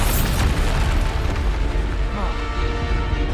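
Bombarda explosion spell in the Hogwarts Legacy video game: a heavy, close boom with deep low-end rumble that carries on for a few seconds under a faint voice, tailing off slightly toward the end.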